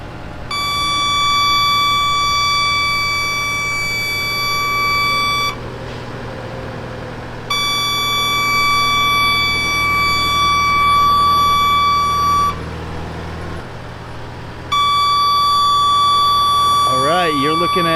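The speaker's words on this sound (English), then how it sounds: "that annoying beeping noise is telling us that there's something going on that's preventing us from lowering this" A Zoomlion 85-foot man lift sounds a loud, shrill warning tone that cuts in and out in long sustained bursts with short gaps between them, while someone talks over it.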